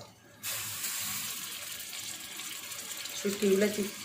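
Dried shrimp get washed under running tap water, a steady close hiss of flowing water starting abruptly, with brief splashing and a faint voice near the end.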